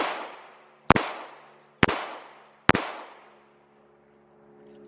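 Three loud, sharp gunshots at a shooting range, aimed at a printable paper target, fired roughly a second apart, each followed by a short reverberant tail before the scene falls quiet.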